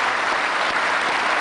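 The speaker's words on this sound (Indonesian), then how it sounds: "Kalau kontra harus kita kasih tepuk tangan kalau begitu." A studio audience at an Indonesian political talk show bursts into dense, loud, continuous applause for the whole moment.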